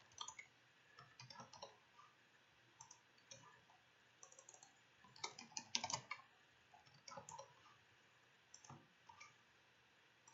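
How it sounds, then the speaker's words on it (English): Quiet, close typing on a computer keyboard comes in irregular clusters of soft key clicks with short pauses between bursts, faint overall and without any voice. "I type it, and I click post, and then I go to the tab, control tab"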